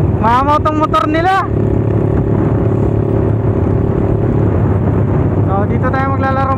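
A motorcycle engine rumbles loud and close throughout, with a rising, revving whine in bursts at the start and end and a steady drone in between.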